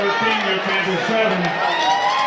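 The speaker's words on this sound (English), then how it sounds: "And that's the Franklin crowd you hear in the background" A Franklin high school football crowd cheers in the stands, a continuous roar of shouting and whooping voices from fans, loud and sustained across the whole moment.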